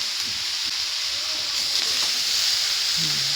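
Pork sautéing with greens in a hot pan gives a steady, close frying hiss that runs unbroken under faint background sound.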